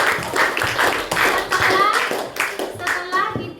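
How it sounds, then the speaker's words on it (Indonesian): A class of young pupils claps together in a classroom, a quick run of sharp, rhythmic hand claps that stays loud and close for a few seconds. "Tepuk tangan."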